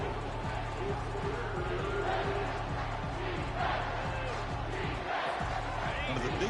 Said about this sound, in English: Third down and the crowd really getting into it.